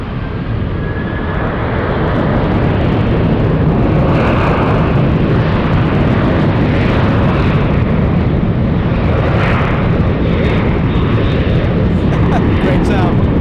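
A Korean Air jet airliner in its new livery at San Francisco International Airport gives a loud, sustained, close engine roar that builds over the first seconds and then holds steady throughout.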